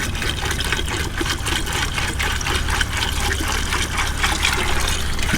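Water pours steadily into an Ozark Trail cooler packed with 10 pounds of ice, a loud, close, continuous splashing and gurgling fill with no talk.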